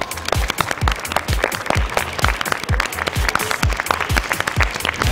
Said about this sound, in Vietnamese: tất cả chúng ta hãy cùng dành một tràng pháo tay để chúc cho cả 10 bạn sẽ vượt qua thử thách ngày hôm nay